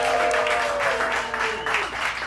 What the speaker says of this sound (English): Can y'all clap for that?